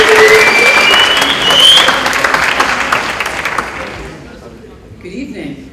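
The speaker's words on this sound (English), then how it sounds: "Let's give a round of applause for Tara Mounsey" A high school audience at a Wall of Fame ceremony gives an honoree a round of applause, with cheering and whistles early on. The loud, close clapping gradually dies away into quiet room sound, followed by a brief voice.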